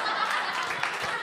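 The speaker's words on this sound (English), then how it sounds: "No, please don't applaud that." Audience applause at a stand-up comedy show: a steady wash of many hands clapping from a crowd, dense and fairly loud, lasting throughout without a break.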